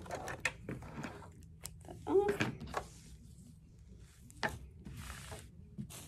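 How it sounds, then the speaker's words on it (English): A sewing machine stitches down a fabric strip in short bursts of quiet whirring and clicking, mixed with handling knocks and a squeak, at low level. "I'm going to just sew all the way across"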